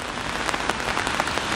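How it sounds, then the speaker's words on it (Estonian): Steady rain pouring outdoors on a city day, a dense continuous hiss of drops spattering on surfaces, close and even throughout with no voices. "siis ilm on päris juba vihma sajab"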